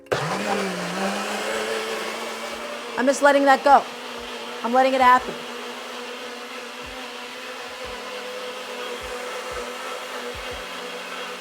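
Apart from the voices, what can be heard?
blender running, blending cilantro crema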